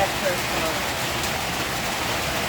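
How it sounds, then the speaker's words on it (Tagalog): Heavy rain falls in a steady, loud hiss that stays even throughout, with no other distinct sounds. "ayaw pa rin tumigil ng ulan"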